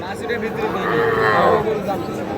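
Sahiwal cattle at a livestock market, a single drawn-out, close moo swelling and fading over about two seconds against a murmur of crowd noise.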